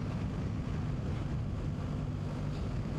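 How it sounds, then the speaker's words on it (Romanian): Strong wind buffets a microphone while riding a motorcycle on an open road, a loud constant low roar with rumbling gusts and no speech. "Eu de-abia pot să țin motocicleta pe drum de la vântul ăsta"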